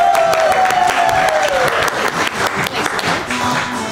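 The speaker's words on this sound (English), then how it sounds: "With some thunderous applause." An improv comedy audience bursts into loud, close applause, many hands clapping rapidly and densely, with a brief cheer or whistle at the start and the clapping tapering slightly toward the end.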